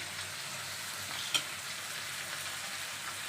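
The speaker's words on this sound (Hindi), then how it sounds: "थोड़ा सा मैं हल्दी डाल के तब फ्राई करती हूँ" Frying in a home kitchen pan after turmeric is added, giving a steady, even sizzling hiss with one brief clink partway through, close and without talk.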